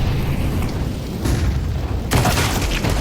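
Rifle fire in Counter-Strike 2 during a pro match: dense, loud bursts of booming shots over a busy, roaring game mix, with a sharper burst of fire near the end.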